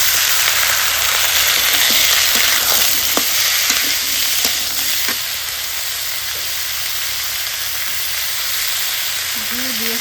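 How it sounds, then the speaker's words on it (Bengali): Potatoes frying in oil with chilli and onion make a loud, dense, continuous sizzle. A few stirring scrapes come early, then the hiss eases slightly and carries on evenly. "মরিচ পেঁয়াজ ভাজা হয়েছে, এবার আলু দিয়ে দিই।"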